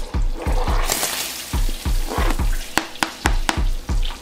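Garlic hits melted butter and lemon juice for a spicy shrimp boil garlic butter sauce, giving a steady close sizzle broken by repeated clanking stirs and sharp taps, with no talking.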